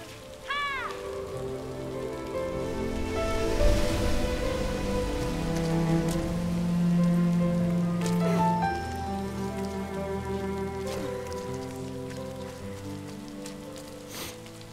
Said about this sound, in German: Der Regen ist richtig cool.